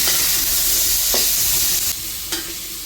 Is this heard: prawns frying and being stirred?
yes